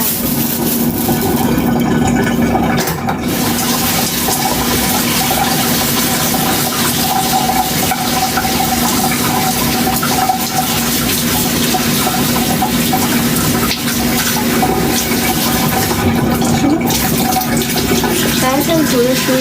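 Pea sprouts rinsed under a running kitchen tap, a steady close splash of water flowing throughout, with a low hum of background noise.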